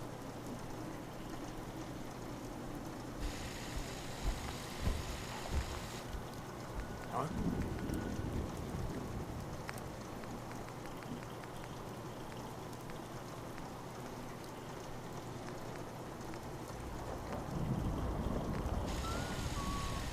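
Rain in Fallout 4 falls as a steady soft patter and hiss, fairly quiet, with low rumbles and brief shifts in the background.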